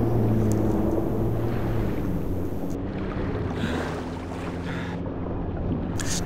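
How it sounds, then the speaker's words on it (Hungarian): Boat in Far Cry 3 moving across water, a steady engine hum with low tonal drone and wind-like rushing that stays at a constant level through the whole stretch, no talking. "Júj, hajó!"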